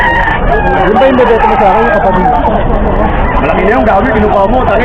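A rooster crows at a busy outdoor pet and farm-animal market in Bocaue, Bulacan, its call partly buried under steady conversation and crowd babble.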